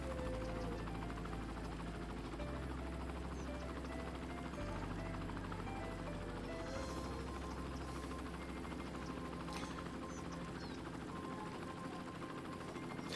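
A helicopter's steady rotor drone and engine hum continue throughout, loud and close, with faint game-like effects layered over it, flying over a city center in the game Cities: Skylines.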